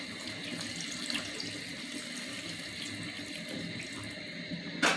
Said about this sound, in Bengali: অল্প পরিমাণ পানি দিলাম